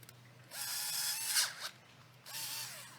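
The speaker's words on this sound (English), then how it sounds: "would you drill a hole right in the middle?" An electric drill with a 1/8 inch bit bores into a clay model in two short bursts, whining up and slowing down nearby, fairly faint, with a brief pause between runs.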